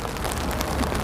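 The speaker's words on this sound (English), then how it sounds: "I keep thinking, oh, the rain's easing off a little bit, but then no, then it's just having a breather before it throws itself fully at us again." Heavy rain pours steadily in a city setting in Birmingham, a dense, continuous hiss close by with no voices.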